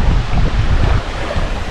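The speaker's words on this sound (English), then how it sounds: "Waves are pretty." Waves washing on a lake shore at Isle Royale, a loud rolling surge of water mixed with heavy wind buffeting, close and steady through the moment.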